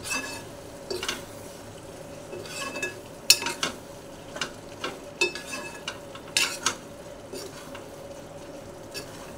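Mustard, poppy seed and green chilli paste frying in a pan with a quiet sizzle, broken by intermittent scraping stirs and light utensil clinks, no talking.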